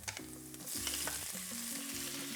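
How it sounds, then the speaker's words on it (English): Shrimp and sliced garlic frying in a pan over medium flame, a soft sizzle with scraping stir strokes and low clunks of the utensil against the pan, quiet and close. "Give it a stir, and we then add a pound of shrimp"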